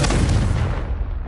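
Hogwarts Legacy's Confringo blasting spell detonates in a sudden, loud, close explosion with a heavy low-end thump, then begins to die away within about a second.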